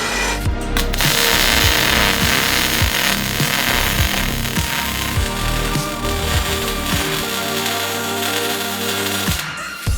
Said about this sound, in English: I'm going to make the extension to go from that existing pipe to the extractor, so I'm just going to weld this on